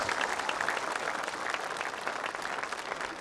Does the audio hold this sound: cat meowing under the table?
no